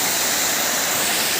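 Champeswar waterfall roars as a steady, dense rush of falling water, loud and close, with no voices over it.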